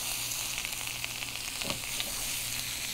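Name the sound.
julienned onions cooking in flaxseed oil in pan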